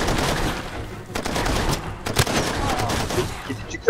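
Far Cry 2 combat: a grenade blast amid dense, continuous bursts of gunfire, loud and sustained, with a few sharper cracks standing out near the end.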